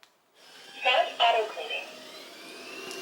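An iHome NOVA robot vacuum cleaner starts up with a soft click, then a rising whir and two louder bursts of motor noise before settling into a steady mid-pitched hum.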